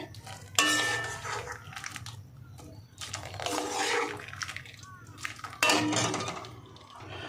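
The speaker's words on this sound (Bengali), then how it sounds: "এরকম একটা ঝাঁঝরিতে তুলে নেব যাতে জলটা ঝরে যায়।" Boiled taro stolons tipped into a colander to drain, with splashing water, trickling and metal pot and utensil clatter in a home kitchen, coming in several loud bursts separated by quieter dripping, and no talking.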